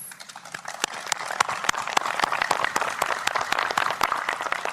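Crowd applause after the joint declaration at Panmunjom, a fairly faint, steady patter of many hands clapping from a distance, continuing evenly throughout.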